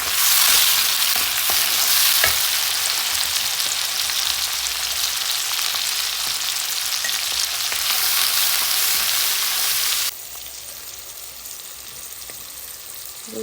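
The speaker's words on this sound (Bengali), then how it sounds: "কড়াইতে তেল তারপর দিচ্ছি পেঁয়াজ রসুন কাঁচামরিচ একটু ভেজে নিচ্ছি এখন দিয়ে দিচ্ছি এখানে কেটে ধুয়ে রাখা চিংড়ি মাছটা" Prawns frying in a wok of hot oil with onion, garlic and green chili, a loud, dense crackling sizzle that runs steadily, then drops abruptly to a softer, thinner hiss near the end.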